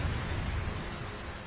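Rain falls heavily in a steady hiss with a low rumble of thunder underneath, brief and fairly quiet.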